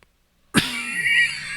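A single close, loud cough bursts out of silence and trails off into a short rasping tail.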